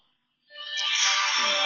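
A phone ringtone for an incoming suspected spam call begins abruptly after a short silence and rings loud and steady, with no talk over it.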